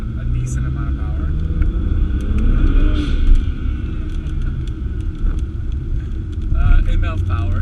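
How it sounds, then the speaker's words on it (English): A BMW E91 wagon with a swapped, tuned N54 engine rumbles loudly through a second-gear pull on a wet road, engine note rising and wavering, with a person talking over it. "So that was the second gear pull right there."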